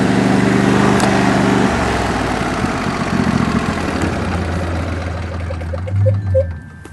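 A John Deere lawn tractor engine runs steadily nearby with a low, even idle drone, the pitch shifting briefly near the end, no talking.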